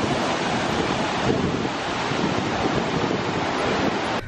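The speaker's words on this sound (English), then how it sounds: "It's called Hrunalaug Waterfall." The Hrunalaug waterfall in Iceland's Thingvellir National Park rushes in a loud, steady broadband roar, mixed with wind buffeting the microphone, and no one speaks.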